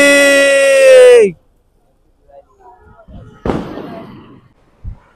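Diwali fireworks and firecrackers at a Lakshmi Puja celebration: a loud, falling whistle, then quiet, then a sharp bang with crackling and another pop near the end.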